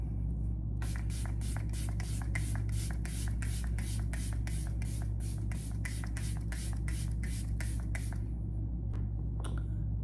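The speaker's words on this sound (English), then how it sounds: "let it dry a little bit and then spray your setting spray" Makeup setting spray is pumped in a quick run of about twenty short, hissing bursts at a steady rhythm, close and fairly soft over a low background hum, ending with one or two stray sprays and no talk.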